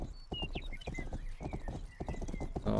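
Horse hooves clip-clop in a steady rhythm with a whinny in the Western video game Rustler, the in-game hoofbeats loud and close.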